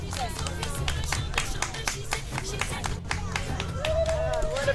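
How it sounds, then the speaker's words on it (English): Outdoor crowd clapping at a health and wellness block party on a sunny afternoon, steady dense applause with crowd murmur and scattered voices throughout. "Y'all give her a round of applause."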